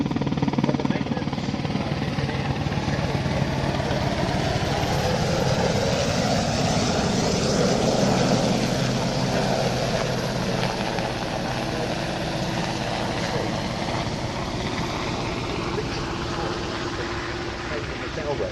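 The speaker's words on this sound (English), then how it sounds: "if you notice as the aircraft banks over towards you, one of the rotor blades, the top bits, painted yellow" A rescue helicopter's rotor and engine drone steadily and fairly loud for the whole stretch, a broad whirring roar with no breaks.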